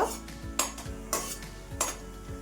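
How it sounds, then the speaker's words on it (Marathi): Dry fruits fry in hot ghee in a pan, crackling steadily while a utensil stirs and scrapes in a few distinct louder strokes, close and with no voices. "तर ड्रायफ्रूट टाकून घेऊया, थोडस गरम झालंय तूप। आता छान असे आपल्याला लाल रंगावरती तळून घ्यायचे, खरपूस असे खमंग।"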